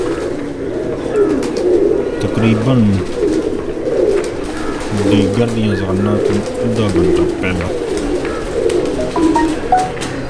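Racing pigeons coo in low, repeated warbling phrases close by, rising and falling in short bursts over steady background noise, while someone talks in between.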